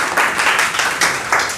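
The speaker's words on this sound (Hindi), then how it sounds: "सबसे पहले आप सब लोग अपने लिए जोरदार तालियां बजाइए" A room of students giving themselves loud applause, close and dense clapping in brief rhythmic surges that rise and fall several times over a short span.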